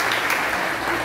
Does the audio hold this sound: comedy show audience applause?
yes